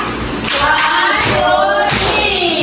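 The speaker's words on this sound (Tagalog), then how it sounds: "Bigyan natin siya ng tatlong palakpak" Three sharp, evenly spaced bursts of clapping from a class of elementary pupils during a Filipino language lesson, loud and close, with a faint murmur between the rounds.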